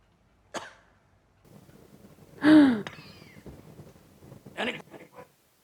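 A man coughs a few times in short, harsh bursts separated by quiet breaths and gasps, close and fairly loud, in a scene from the drama Chernobyl.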